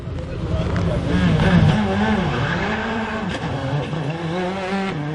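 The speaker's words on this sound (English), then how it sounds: "we have a few cars from rallying history providing a demonstration run before the main field come through" Historic rally cars on a demonstration run at Fleetwood Stages, a tight, twisty car park course, engines revving and roaring close by with a possible tyre squeal, under continuous commentary and crowd noise.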